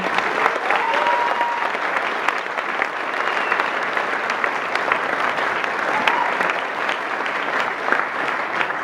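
An audience at a graduation ceremony applauds the trainers with steady, moderately loud clapping from many people. The applause holds an even level throughout, with faint crowd murmur beneath.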